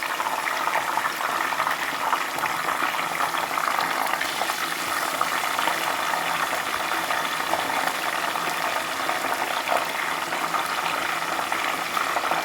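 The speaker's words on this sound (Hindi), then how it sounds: "ये मैं फ्राई करके तो आपको दिखाती हूँ" Pieces fry in hot oil with a loud, steady, dense hiss and bubbling that carries on without a break.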